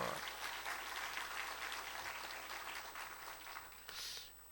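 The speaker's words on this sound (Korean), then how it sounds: "격려의 박수" A church congregation at a Sunday service applauds the choir in encouragement, a steady clapping of many hands, soft and somewhat distant, continuing throughout with a brief voice near the end.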